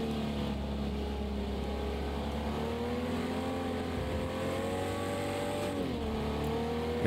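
Jaguar E-Type engine in Project Cars 2 at Watkins Glen, a steady loud drone with rising and falling revs through gear changes, no talk over it.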